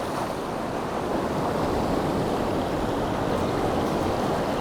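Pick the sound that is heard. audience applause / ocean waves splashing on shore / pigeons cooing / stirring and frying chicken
ocean waves splashing on shore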